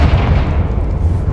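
A Confringo explosive spell blasts in Hogwarts Legacy, a loud deep boom with rumbling low-end that rolls on for over a second before thinning out.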